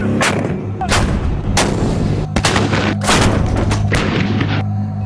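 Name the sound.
Indian Army artillery guns firing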